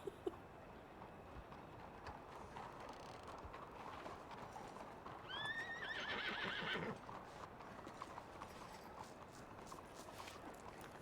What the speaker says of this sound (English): Your horse is edging closer to trying to kick me.